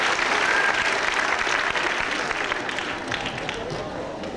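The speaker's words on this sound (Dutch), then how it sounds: "Een applaus voor beginnersgroep demonstratie" An audience in a school hall breaks into dense, sustained applause for a beginners' jazz dance demonstration group, a loud, continuous wash of many clapping hands with little variation.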